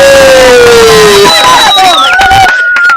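A loud crowd erupts in shouting and cheering for the winner of a beach-side water game, with voices piling over one another in a chaotic, close roar that cuts off abruptly at the end.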